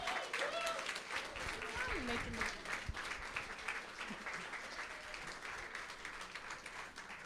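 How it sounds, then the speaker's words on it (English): Audience at the Haitian Ladies Network brunch in Washington DC rising in a standing ovation, steady broad applause filling the room throughout, with cheering voices and chatter mixed in. "Standing ovation for this lady"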